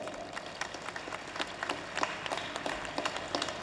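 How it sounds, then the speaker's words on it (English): Audience at a Don Bosco High School annual day gives a steady round of applause, many hands clapping together across the hall at an even, moderate level with no one talking over it. "Let's have a round of applause for everybody"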